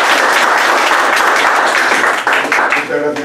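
Audience applause rises at a public event, a steady wash of clapping from a room full of people that breaks up toward the end, with a voice briefly speaking over it.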